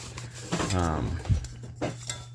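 A Pathfinder metal camping cup, 700 to 750 millilitres, clinks and scrapes in a few light metallic knocks while someone talks over the handling.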